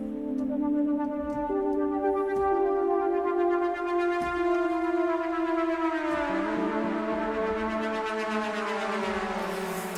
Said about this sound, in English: so it's that, you know, the very ambient lead type of sound.